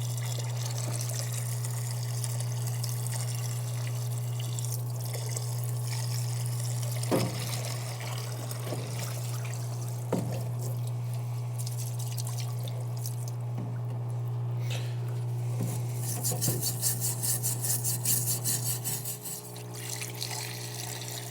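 Water splashes and drips steadily while the air cleaner bowl of a 1943 Case SC tractor is scrubbed in a parts washer, with a constant pump hum underneath and a few louder sloshes and knocks.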